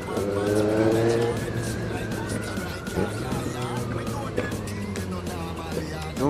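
A motorcycle engine drones while riding, its steady tone shifting in pitch as the revs change, with wind noise and someone talking over it throughout.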